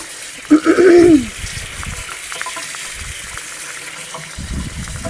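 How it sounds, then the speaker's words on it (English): Strawberries rinsed under cold running tap water, a steady close splash of flowing water with a brief louder gush near the start. "I'm going to rinse them in cold water."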